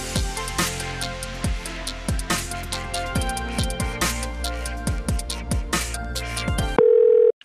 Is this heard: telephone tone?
yes